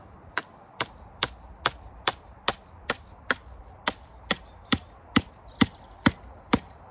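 Sharp, evenly spaced hammer blows drive a metal rod into the ground, about sixteen hits in a steady rhythm, close and clear against a quiet background.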